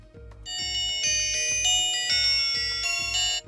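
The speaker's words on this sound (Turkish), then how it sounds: "Telefonunuza bir arama geldiği zaman bu zil seslerinden seçip saatinizden çaldırabilirsiniz." A bright, repeating electronic ringtone melody plays loudly from the small speaker of a replica Apple Watch 6 smartwatch (FK98), looping steadily with no voices.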